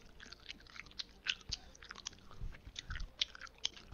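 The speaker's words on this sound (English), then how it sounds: "stop chewing in my ear" Chewing and crunching close to a microphone over Rainbow Six Siege voice chat, a steady run of wet bites and crunches for several seconds, no speech.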